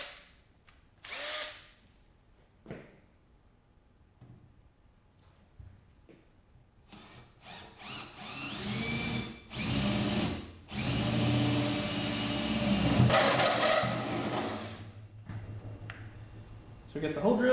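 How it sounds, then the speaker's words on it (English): A step drill bit bores a 9/16-inch fitting hole in a fuel cell tank, heard as a few short whirring bursts, then a long, loud sustained grinding run, with speech in between. "So we'll drill this thing out to 9/16"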